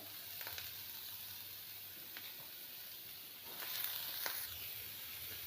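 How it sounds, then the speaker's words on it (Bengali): Potato pieces and pointed gourd frying together in oil in a pan, giving a soft, steady sizzle throughout with a few faint crackles and a slightly louder stretch near the end. "এবারে আলুটাও আমি পটলের সাথে ভালো করে ভেজে নিচ্ছি।"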